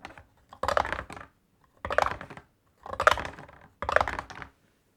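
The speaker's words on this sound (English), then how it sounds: "Put the dice in the tower." Dice tumble through a tabletop dice tower while a Wingspan board game is being set up. Four separate rattling bursts of clattering plastic, close and crisp, with short silent gaps between them.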